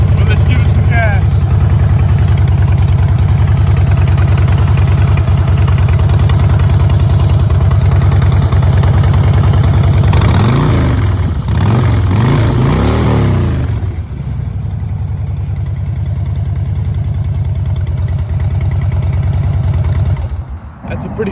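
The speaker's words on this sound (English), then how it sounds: "That's a pretty trademark Harley sound, if I have to say so myself. Real deep and growly." A 2012 Harley-Davidson FXS Softail Blackline motorcycle idles with a deep, loud, lumpy rumble, then revs up and down in a few throttle blips before settling back to idle; a voice talks over it at points.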